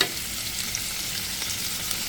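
Fish sizzles steadily in hot oil in a frying pan, a dense continuous crackle with no talking, in a home kitchen where frozen okra is being cooked alongside.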